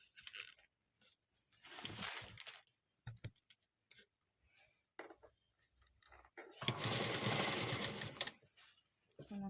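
A sewing machine stitches beaded lace onto a readymade blouse in short, quiet bursts of whirring, with a longer run near the end and soft clicks between.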